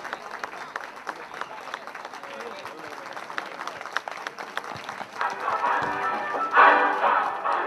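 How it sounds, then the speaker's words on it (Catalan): Crowd applause rings out at an amateur football match as the Benavent team comes out, with scattered claps that swell louder toward the end. "L'aplaudiment del públic."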